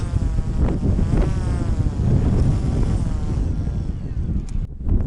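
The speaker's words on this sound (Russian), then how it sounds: "Такой вот ветер стоит у нас." Strong wind on spring ice in Yakutia buffets the microphone in continuous rough gusts, a loud low rumble that eases slightly near the end.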